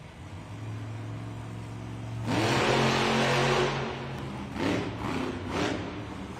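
The Megalodon monster truck's engine at a Monster Jam arena event in Oakland, California: a low idle climbs into a loud roaring rev, then drops back and flares again in shorter bursts, heard from across the arena.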